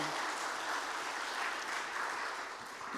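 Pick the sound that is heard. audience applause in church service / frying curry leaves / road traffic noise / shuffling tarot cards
audience applause in church service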